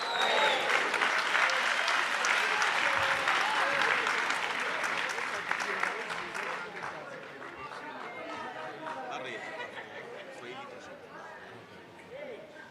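A crowd of delegates at an African National Congress provincial conference in the Eastern Cape applauds in a dense, sustained roar that slowly eases off, with voices and chatter mixed in throughout.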